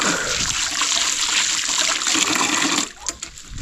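Water running from a tap or tank outlet while food is washed by hand, a steady close splashing trickle that breaks into uneven splatters and drips near the end.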